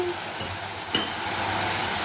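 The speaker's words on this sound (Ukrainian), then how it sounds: "Ах, як воно шкварчить" Steady, close sizzling of food frying in a pan, with a brief stir or clink near the middle.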